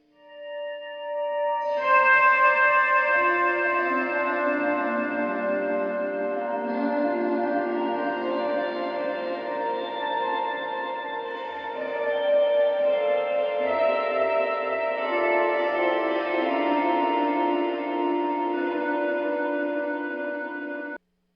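Sustained guitar tones through an ultra tap delay effect, swelling in with a shimmering wash of smeared, layered repeats that hold steady for about twenty seconds, then cut off abruptly.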